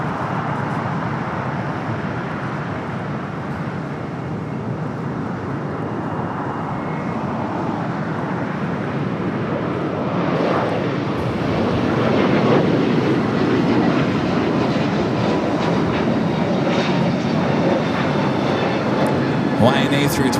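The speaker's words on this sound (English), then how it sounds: "Hawaiian A321 Neo." A Hawaiian Airlines A321neo airliner passes at LAX, its engine rumble building and growing louder over the second half under steady talk and radio chatter.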